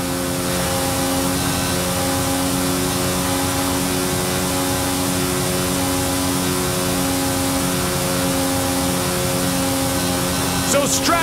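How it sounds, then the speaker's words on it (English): A Mercedes-AMG One hypercar engine races alongside a low-flying cargo plane in the Forza Horizon 5 opening race, a loud, continuous droning roar of engine and aircraft throughout. "that is the last inbound cargo flight racing neck and neck with an AMG 1"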